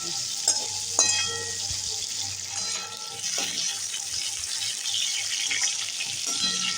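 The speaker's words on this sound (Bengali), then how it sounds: "দেখো পটলটা কিন্তু প্রায় ভাজা হয়ে গেছে আমার" Pointed gourd frying in hot oil in a home kitchen makes a continuous close sizzle, with occasional stirring clatter and spatter bursts.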